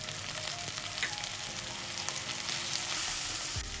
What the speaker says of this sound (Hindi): ज़्यादा हल्की आंच से नॉर्मल से हम अपनी मिर्चों को फ्राई करेंगे।